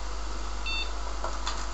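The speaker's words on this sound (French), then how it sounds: "Là il a fait son petit bip. Ok, voilà, la carte mère s'allume." An MSI MS-7301 motherboard gives a single short, faint electronic beep as the PC powers on, against a steady low hum.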